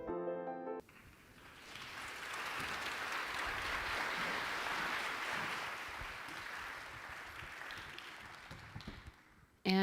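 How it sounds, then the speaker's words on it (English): A room full of guests at a charity gala breaks into sustained applause, even and moderately loud, tapering gradually before a voice cuts back in at the end. "And another round of applause"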